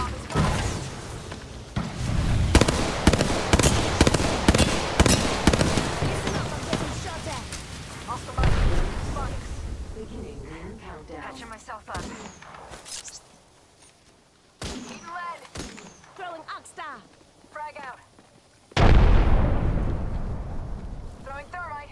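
Bursts of rapid gunfire and explosive blasts from the battle game Apex Legends, loud and dense for the first several seconds, then thinning to scattered shots and sharp hits, with a heavy burst near the end; a voice talks over parts of it.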